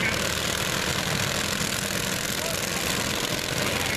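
Lawn mower engines run together at a lawn mower demolition derby in Fisher, Illinois, making a constant dense motor drone with low rumble and no gaps, heard nearby with crowd noise and faint commentary mixed in.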